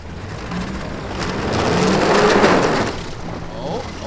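A Ford Raptor pickup fitted with tank tracks drives across a frozen pond, its broadband rumble and hiss swelling as it passes closest near the middle, then easing off.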